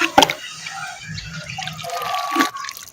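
Water is poured into cow dung slurry being mixed for gobar gas, giving short gurgling, splashing bursts at close range with quiet gaps between them.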